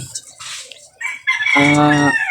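A small Serama bantam rooster crows once up close, a short strained call rising into a sustained tonal note, preceded by a few brief sounds.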